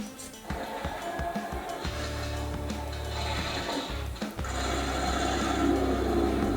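A Heng Long remote-control toy tank with a swapped CS control board starts up. Small gear clicks are followed by a steady motorized engine-sound drone with whirring mechanical noise, heard up close.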